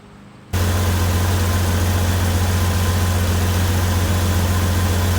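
A 2004 Jeep engine with an overheating problem starts up after a brief quiet moment and keeps running loud and steady, a deep idle rumble with a constant hum.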